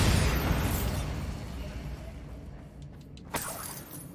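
A Bombarda spell explosion in Hogwarts Legacy goes off with a loud, broad blast that slowly fades over several seconds, followed by a short, sharp pop near the end.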